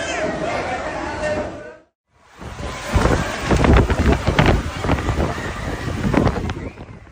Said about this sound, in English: The storm in Guadalajara howled fiercely